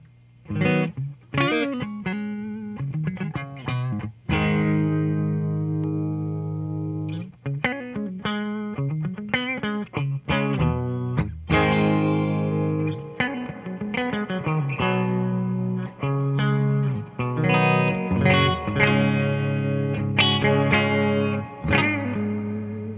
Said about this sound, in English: that's just me bringing in the reverb